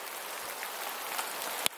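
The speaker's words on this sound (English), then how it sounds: "Here comes the rain." Rain falling outdoors, a steady broadband hiss of drops on surfaces throughout, with one sharp brief tap near the end.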